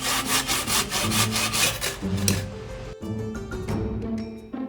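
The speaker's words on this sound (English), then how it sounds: "I was a little intimidated at first to use the Sawzall, but it sped the process up substantially" A Sawzall reciprocating saw cuts through brick in rapid rhythmic strokes, loud and close, then the blade slows and the rasping fades near the end, with no talking.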